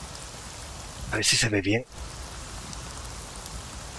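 Steady rain in the video game Avatar: Frontiers of Pandora, a soft even hiss of falling drops throughout, briefly interrupted by a person speaking over it.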